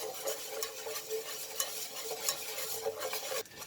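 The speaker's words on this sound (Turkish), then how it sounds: "Yine güzelce çırpıyoruz." A whisk scrapes and swishes steadily through thick tarhana soup mixture in a pot, a busy continuous rattle with no talking.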